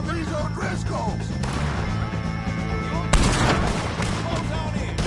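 Video game gunfire aimed at O'Driscoll gang members: rapid shots crackle over a busy battle mix, with a sharp, louder burst of fire partway through.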